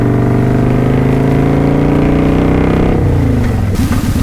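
Motorcycle engine on a freeway, loud and close, a steady high drone that drops in pitch as the rider holds the clutch and shifts down toward first, with wind rumble near the end.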